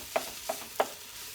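Ground turkey being broken up and stirred in a pan for three bean turkey chili, with three distinct spoon scrapes spaced about a third of a second apart over a faint background sizzle.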